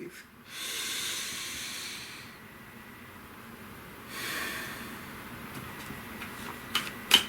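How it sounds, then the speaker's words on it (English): Slow, deep breaths come in soft, airy waves, with a long inhale and exhale followed by another, faint and close, then a few small clicks at the end. "Breathe."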